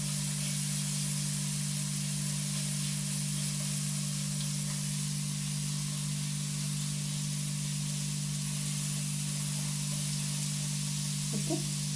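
Garlic and ginger roast in a kadai for a crab roast, giving a steady, close sizzling hiss that runs unbroken throughout with a low hum beneath and no talking.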